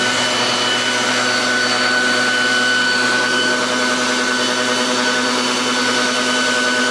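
A new Kobalt electric leaf blower runs steadily and loudly with a constant high whine and airy rush, with no breaks in the sound.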